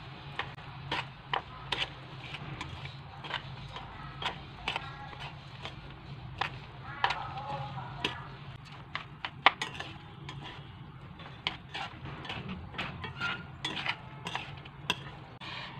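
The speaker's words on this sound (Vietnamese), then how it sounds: "bây giờ mình sẽ đảo đều lên và để 10 phút cho ngấm gia vị nhé" Seasoned spring roll filling of minced ingredients with ground pepper being stirred in a bowl, producing quiet, irregular clinks and scrapes of a utensil against the dish at close range.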